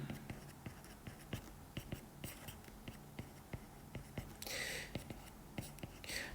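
A teacher writes on a classroom board during a high school math lesson, producing faint, steady taps and scratches at an even rhythm with soft room noise beneath.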